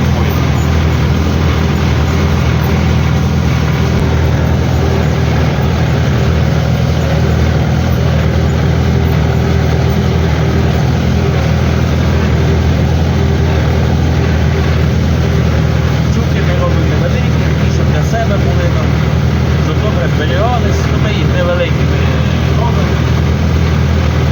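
A low, steady tractor engine rumble idles continuously and close by, at about 900 rpm, unchanging throughout with a constant droning hum.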